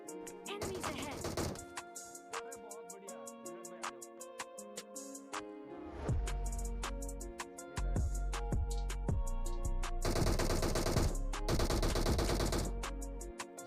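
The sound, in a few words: gunfire in the PUBG video game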